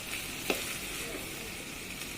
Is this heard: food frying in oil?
yes